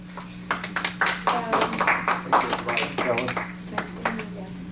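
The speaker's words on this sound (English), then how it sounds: "Round of applause." Scattered clapping from a small audience at a village board of directors meeting, a few dozen sharp hand claps over nearly five seconds, with a steady hum beneath and some talking mixed in.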